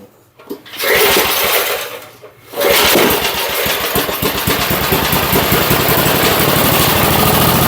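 An old, rusty Briggs & Stratton small engine that had water in it sputters briefly, goes quiet, then fires up and keeps running with a loud, steady, rapid chugging close by, with no talk over it.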